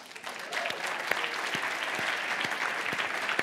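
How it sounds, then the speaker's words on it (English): An audience at an on-stage interview applauding the interviewer, a steady, dense burst of clapping from a large crowd heard alone throughout. "I love when they clap for the interviewer as well as the interviewee."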